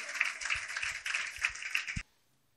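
Applause in a church greeting a female pastor, a dense burst of clapping from a congregation that carries on steadily for about two seconds and then stops abruptly.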